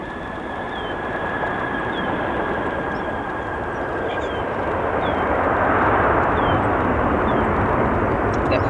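A 21-year-old Boeing 737-800 arriving at O'Hare airport from Charlotte, with steady loud jet roar swelling slightly toward the end, alone without talk.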